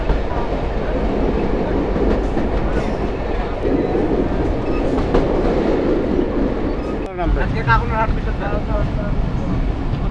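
Rajshahi to Rohanpur commuter train in Bangladesh running on rails, a steady loud rumble of the carriage with rhythmic wheel noise, a brief drop near seven seconds, and rattling clatter afterwards.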